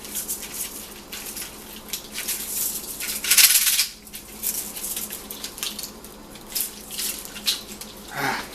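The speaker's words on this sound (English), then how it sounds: "Spilling water all over my kitchen floor here." Water splashes and trickles onto a kitchen floor, spilled while a pressure cooker is filled for dyeing polished nylon 3D-printed parts, with a brief louder splash midway and softer dribbling around it.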